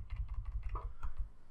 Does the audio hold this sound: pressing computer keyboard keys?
yes